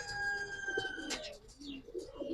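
Silver Giribaz pigeons coo in a loft, soft throaty coos repeating close by against low background chatter and rustling.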